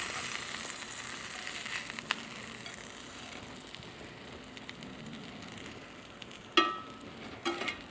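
French toast slices frying in melted butter in a pan give a steady, broad sizzle throughout, with a couple of sharper pops and spatters near the end.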